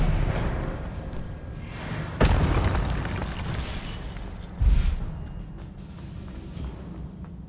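Expelliarmus spell cast in Hogwarts Legacy, heard as two sharp, booming bursts a couple of seconds apart over a steady rumble of game ambience.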